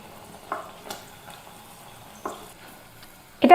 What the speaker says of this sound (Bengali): এইভাবে নাড়িয়ে চাড়িয়ে ভালোভাবে ভেজে নেব।